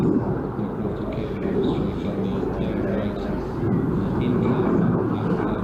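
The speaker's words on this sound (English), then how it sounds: "Here we see the Harrier coming in for a high-speed run" A Harrier jump jet making a high-speed display pass at roughly 550 knots, near Mach 0.95, gives a continuous, heavy jet roar that holds steady and full for the whole stretch.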